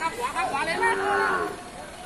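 A pair of young crossbred cattle moo at a livestock market in Nan, northern Thailand. The drawn-out lowing calls sit over background chatter.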